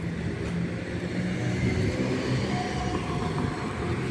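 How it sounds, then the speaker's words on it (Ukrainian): Tram pulling up along a street in Kraków, a steady loud rolling rumble with wheel-on-rail grinding and traffic noise filling the whole moment, no voices. "Вже під'їжджає наступний трамвай"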